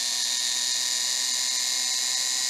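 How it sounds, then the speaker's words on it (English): An electric drill boring holes in a circuit board, giving a steady, close high-pitched whine with a faint lower hum underneath, continuous and unbroken with no talk. "So I'll continue drilling those holes, and then I'll cut this track."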